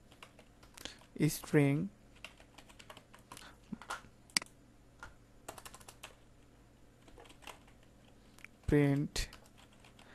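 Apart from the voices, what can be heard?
typing Python code on a computer keyboard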